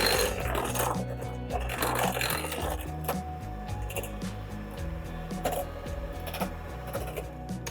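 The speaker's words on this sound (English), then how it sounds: "now we're going to mix for a couple of minutes so it gets really nice and creamy" An electric mixer beats cheesecake batter, a loud continuous motorized whir with a low mechanical hum and rattling of the beaters against the bowl, running steadily the whole time.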